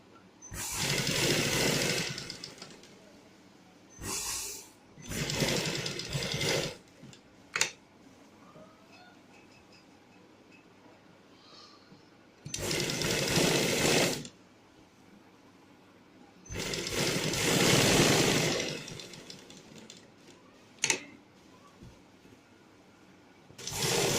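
A sewing machine runs in several loud bursts of rapid stitching, separated by quiet pauses and a few sharp clicks.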